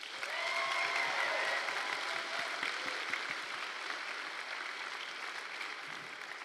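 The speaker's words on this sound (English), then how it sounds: "Let's all give another big round of applause for our incredible performers and speakers from today." High school graduation audience applauding performers and speakers, a sustained, even roar of many hands clapping heard from within a large crowd, slightly distant and continuous throughout.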